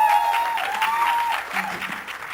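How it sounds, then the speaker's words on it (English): Audience applause at the Mary Kom trailer launch with Priyanka Chopra: a dense, steady wash of clapping from a large crowd that holds for a couple of seconds, close and fairly loud. "Big round of applause for her."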